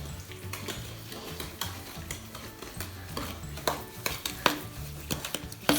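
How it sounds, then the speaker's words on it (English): Cookie dough ingredients stirred in a mixing bowl, with repeated scraping clinks of a utensil against the bowl in an uneven rhythm, close and moderately loud. "And then stir all ingredients."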